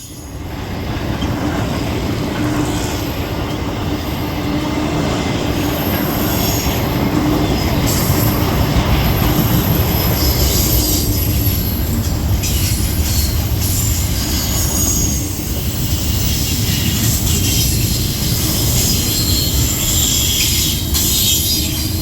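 A train rolling through a town at around 40 miles per hour, a loud continuous rumble of wheels on rails with squealing and clatter, close by and unbroken throughout.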